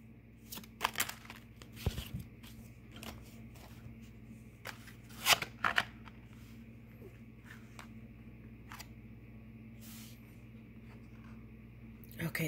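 Halloween-themed tarot cards are shuffled and handled in scattered soft bursts of riffling and slapping, faint and close, over a low steady background hum.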